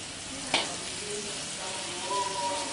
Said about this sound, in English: Cook the prawns first because the prawns will be the last to get cooked.